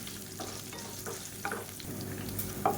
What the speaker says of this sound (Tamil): இப்போ இதெல்லாம் நல்லா வதங்கிடுச்சு